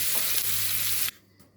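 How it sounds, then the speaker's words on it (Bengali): Onion frying in a pan, a loud close sizzle that cuts off abruptly after about a second, leaving near quiet. "পেঁয়াজটা ভাজা হোক"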